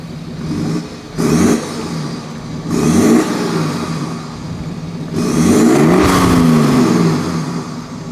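BMW 5 Series F11 with a Stage 2 tune, its engine blipped in three sharp revs that rise and fall over a throaty idle, the last burst longest and loudest, heard close up.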